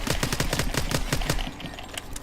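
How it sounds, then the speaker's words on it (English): Atlas 45 akimbo pistols hip-fire in Call of Duty: Advanced Warfare, a rapid, loud, rhythmic string of gunshots that stops partway through, with no voices. "this is how much the Atlas 45 akimbos will kick when you're hip firing them akimbo"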